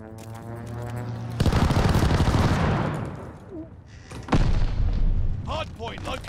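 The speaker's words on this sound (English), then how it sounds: "Hostile strafe inbound." Hostile strafe gunfire in the video game Call of Duty Vanguard, with two loud, dense bursts of rapid shots and booming impacts about three seconds apart, over game voices and background noise.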